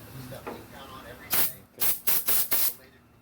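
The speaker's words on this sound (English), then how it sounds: "Make sure all the spray guns are spraying right, properly." A spray gun spraying clear coat hisses out five sharp bursts, one long and four shorter in quick succession, close and loud over faint background murmuring.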